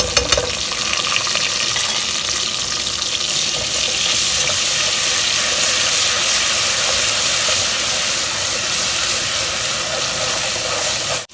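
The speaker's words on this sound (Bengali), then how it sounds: "পানিটা দিয়ে দেবো" Water poured into a cooking pot for Bangladeshi pilau after ginger and garlic were added; a loud, continuous rushing pour fills the scene close up, with a hissing, sizzling edge, then cuts off abruptly at the end.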